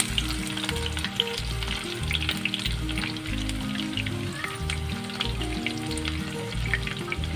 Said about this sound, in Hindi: ये हमने फ्राई पैन में 1/2 कप तेल ले लिया है, और ये 2 अदद मैंने मीडियम प्याज ली थी व्यूअर्स, इसके मैंने स्लाइस कर लिया, ये हम इसमें डाल देंगे